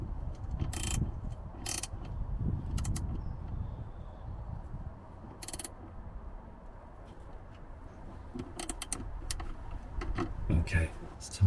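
Ratcheting wrench clicks in short bursts while tightening gearbox mount bolts on a Jaguar S-Type R during rear gearbox mount replacement, close and clear over a low garage rumble, with pauses between bursts.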